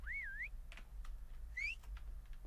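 A person whistles a short wavering tune in a quiet room, two brief melodic phrases separated by a few soft clicks and taps, with a steady low hum underneath.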